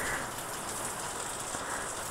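Rain falling during a trip to a Machhindranath and Kanifnath temple visit makes a dense, steady hiss of drops on surfaces, constant and fairly close with no pauses.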